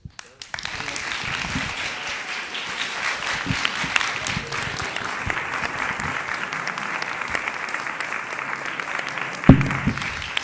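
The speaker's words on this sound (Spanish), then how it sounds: "Les pediría un aplauso para nuestros" Audience at a film festival talk applauds its guests, a dense, steady wash of clapping from a sizable crowd that holds for about ten seconds with a sharper clap near the end.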